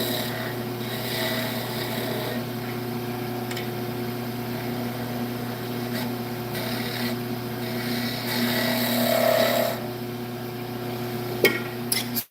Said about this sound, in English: I'm going to use my spindle gouge and just kind of clean that up.